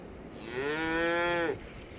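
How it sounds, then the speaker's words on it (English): A single cow moos close by outdoors on a pasture near a bass fishing spot in Texas, one long, loud, rising then steady call lasting about a second, with no talk over it. "Guys, there's cows all around me."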